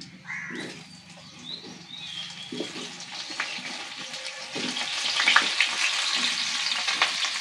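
Cut mango pieces hit hot mustard oil with dried red chilli and panch phoron for a pickle, starting with light stirring clatter and building into a loud, close, continuous sizzle with no speech.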